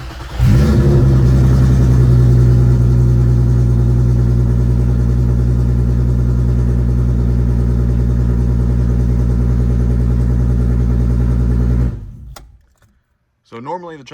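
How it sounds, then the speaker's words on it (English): Cold start of a VW Mk6 GTI fitted with a 3.6L VR6 engine, a loud, deep, steady high-idle drone close to the microphone that runs about twelve seconds, then cuts off abruptly. "So that leaves us with this lovely cold start here."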